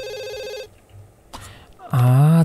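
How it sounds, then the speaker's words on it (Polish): Telephone ringing in The Sims 2, an electronic tonal ring that stops, followed by a short pause, a brief click, and then a louder, warbling ring tone. "A, telefon zadzwonił"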